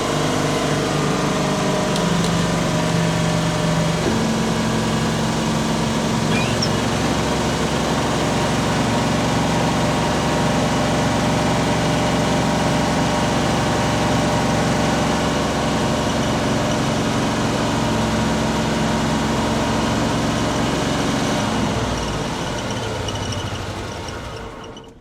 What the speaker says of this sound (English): So it's got an exhaust leak, and the throttle cable can't figure itself out. But it starts, and it runs.